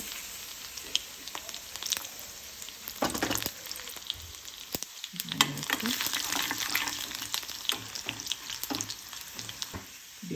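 Cumin, mustard seeds, two dried red chillies and coarsely crushed garlic sizzle in hot oil in a pan, a close, crackling fry with scattered pops and scraping stirs running throughout.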